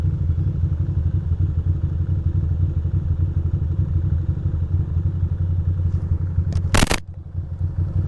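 A motorcycle engine drones steadily while riding, a low rumbling hum close by, ending in a short sharp clatter near the end; no talk.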